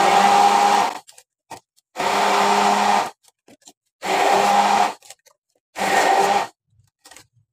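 A blender whirs strawberries into a paste in four loud, even bursts of about a second each, with short silent pauses between them and no voices.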